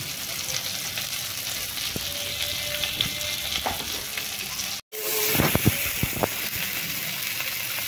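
Pointed gourd frying in a pan, a steady close sizzle with scattered spatula taps, a brief cut, then crackling and scraping resume.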